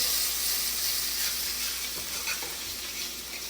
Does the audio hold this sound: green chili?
yes